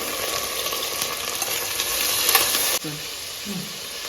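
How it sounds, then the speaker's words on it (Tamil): Onions and tomatoes sautéing in a pan with curry leaves, a dense close sizzle for most of the time that cuts off abruptly, followed by quieter stirring sounds and a brief murmur. "தக்காளி ரெண்டு நல்லா வதங்கட்டும்"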